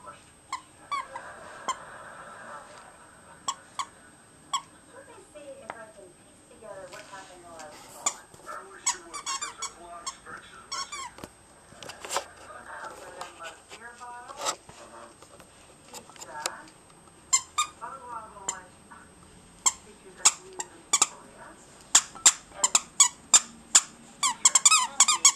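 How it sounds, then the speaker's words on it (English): Squeaky dog toy being played with by puppies, giving repeated short rubbery squeaks in irregular bursts that grow busier toward the end, fairly faint and close, with soft talk in between. "Makes all these squeaky noises."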